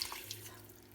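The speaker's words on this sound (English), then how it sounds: "In we go with the water" Water runs into an Instant Pot while making veg pulao, a short quiet steady pour lasting about a second.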